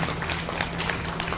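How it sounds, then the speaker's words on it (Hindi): A crowd claps together at a Bhagwat Katha religious gathering for a person being honored, a dense, steady patter of many hands filling the whole moment. "तो जोरदार एक बार तालियां गोविंद भारद्वाज के लिए।"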